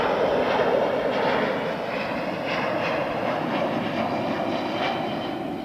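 A steady, broad roar of an Aero Transcargo aircraft passing at Heathrow Airport, constant and fairly loud throughout with a slightly fuller start, no voices.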